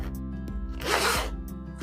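A zipper newly sewn into a hoodie is drawn once in a quick, close, scratchy rasp, with faint handling sounds before and after.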